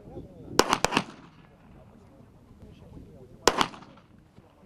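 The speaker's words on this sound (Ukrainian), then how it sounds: "Солдати змагаються у влучності з автоматів АК-74, офіцери з пістолетів Макарова." AK-74 assault rifles fire at a military shooting competition, a few sharp distant reports in quick pairs separated by a long pause, heard over faint background talk.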